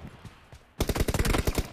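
Rapid automatic gunfire in a shooting video game bursts out in a dense, loud string of shots after a few scattered single pops, with no speech over it.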